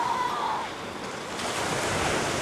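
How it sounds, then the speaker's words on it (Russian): Sea waves wash on the shore at a beach in Spain, a steady, broad hiss of surf with wind noise across the microphone, fairly loud and continuous. "Послышали море?"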